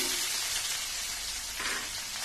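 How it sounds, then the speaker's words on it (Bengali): Chopped onions frying in a kadai alongside whole garam masala spices, giving a steady, dense broadband sizzle that stays loud and even throughout with no talking. "পেঁয়াজটাকে একটু ভালো করে ভাজবো"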